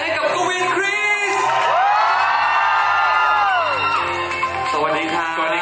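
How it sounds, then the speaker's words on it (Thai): Live audience at a fan event in Thailand screaming and cheering loudly in a sustained high-pitched wave that peaks mid-clip, with a voice speaking over the crowd. "มาถึงตอนนี้ส่งเสียงกรี๊ดนะ"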